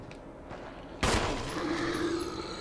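Gunfire in Resident Evil HD, a single sharp, loud shot cutting through a quiet background, followed by a ringing, lingering tail and ambient game sound.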